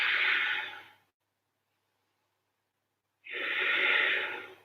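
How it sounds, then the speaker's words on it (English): Two slow, deep breaths during a strong-flow yoga session, each a loud, close, airy rush lasting about a second, separated by a couple of seconds of silence. "And breathe."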